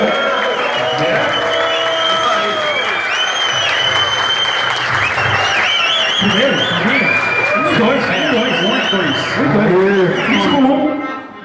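A large crowd at a Sofrada event in Brazil cheers and applauds loudly and steadily, the noise swelling toward the end, while someone speaks over it.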